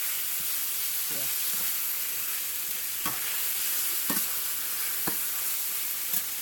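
Chicken pieces sizzle in hot oil while being stir fried for a Sunday dinner, a steady bright hiss and crackle broken by a few sharp stirring scrapes.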